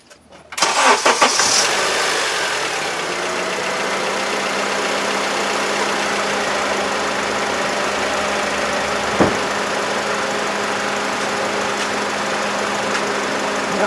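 A 2007 Honda CR-V with a 2.4L engine and 185,000 miles, just fitted with new spark plugs, cranks briefly and fires up loudly nearby, then settles into a steady, even idle.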